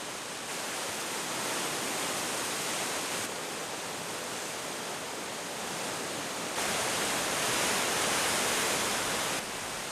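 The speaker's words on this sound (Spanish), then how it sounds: "El deshielo continúa en verano y nutre de caudalosas aguas al río Abiskojoka" Steady, loud rushing roar of the Abiskojoka river in Sweden, swollen with summer snowmelt as it runs through a valley in Abisko park, continuous broadband water noise with no voices.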